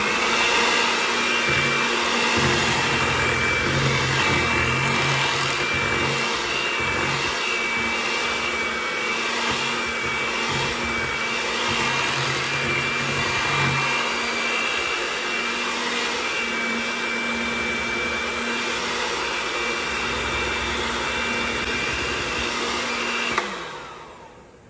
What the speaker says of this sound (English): We're gonna beat it a couple of more minutes with our mixer.